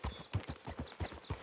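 Horse hooves clip-clop at a steady riding gait in Red Dead Redemption 2, an even rhythmic four-beat patter of fairly soft, close hoof falls on a dirt path.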